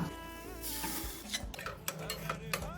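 Roasted black beans sautéed in a pan with oil, red chilli powder, garam masala and a little water, stirred with a spoon: scraping strokes and metallic clinks against the pan over a soft sizzle, close up, with no talking.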